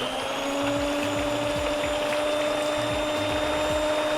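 An electric mixer whips cream mixed with gelatin, a steady close whirring drone that holds without pause, no voices.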